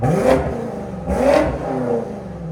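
BMW X6 M Competition, tuned to about 900 hp with downpipes and resonators, revved hard in two loud, close blips followed by a smaller third rise, a smooth exotic howl rather than a rasp.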